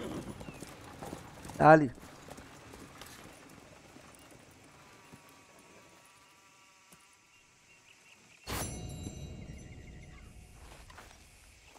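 Horse hooves clip-clopping in Red Dead Redemption 2, a brief close burst of hoof steps near the start amid game ambience and music, with speech over parts of it and a louder shift later.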